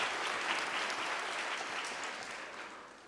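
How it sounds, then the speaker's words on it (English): Audience applause at a University of South Africa autumn graduation ceremony, a large hall of steady, dense clapping that gradually fades toward the end. "Can we give a round of applause to this august institution?"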